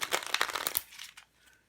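A deck of thin playing cards is riffled and shuffled by hand, giving a brief crisp flurry of papery flicks that stops after under a second, followed by a couple of faint softer card sounds.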